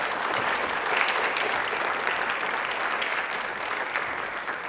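Loud, sustained studio audience applause at a television quiz show, a dense wash of many hands clapping at steady strength throughout.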